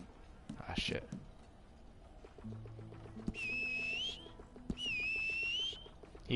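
A character in Red Dead Online whistling, two sustained high-pitched whistles bending slightly upward, following a brief burst of other noise and a low hum, set against quiet game ambience.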